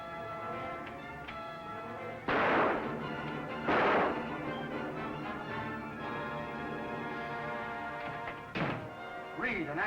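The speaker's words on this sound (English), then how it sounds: "No, Dean. Don't shoot." Sharp gunshots ring out in a 1940 film scene, a couple of loud bursts breaking through tense dialogue and a music score.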